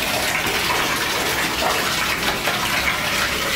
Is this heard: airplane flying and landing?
no